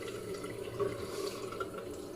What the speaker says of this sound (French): on vient tout simplement bien rincer son masque